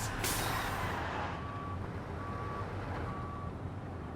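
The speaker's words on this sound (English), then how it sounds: "It does have a backup beeper." A truck in SnowRunner sounds its backup beeper, three evenly spaced beeps ringing over a loud, low diesel engine rumble after a brief hiss of air.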